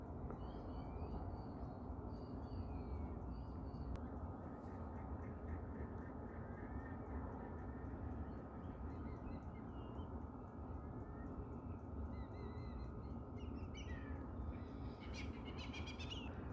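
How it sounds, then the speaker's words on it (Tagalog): Several birds, including pelicans, call and chirp at a distance at a campsite in Mildura, Victoria, Australia, over a steady, broad background noise, with scattered high twittering throughout. "maririnig nyo guys yung mga ibon nag-uumpisa ng nagliliparan."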